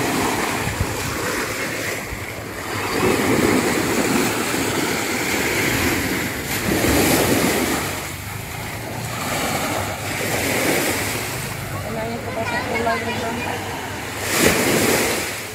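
Ocean waves surge and wash at high tide on Tanjung Bira beach in the early morning, a continuous rolling roar with wind buffeting the microphone and occasional voices.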